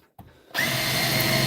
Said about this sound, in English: We'll have to get our customary block on and drill a hole.